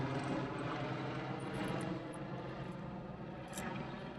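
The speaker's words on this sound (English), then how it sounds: "this is the fifth helicopter that's flown over" Steady engine drone of a helicopter passing overhead, a continuous rumbling roar at moderate distance with no voices.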